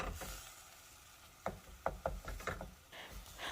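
Ground beef frying in a pan while being stirred, a soft sizzle under a series of distinct spoon scrapes and knocks that come in uneven bursts, close and fairly quiet.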